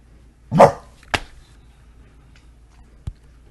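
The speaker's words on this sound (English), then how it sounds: "So that's my dog there." A bulldog lets out one loud close bark, then a sharp shorter yelp, followed by a faint click in otherwise quiet surroundings with no talking.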